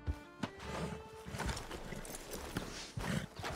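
Horse hooves clip-clop at a walk in Red Dead Redemption 2, moving off through woodland scrub, a few spaced steps over a steady game ambience.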